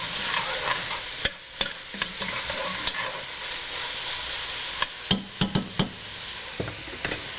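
Onions, carrots and celery sauté in a pan over a high flame, a continuous bright hiss with irregular sharp knocks and scrapes of a spoon stirring, louder clusters near the end.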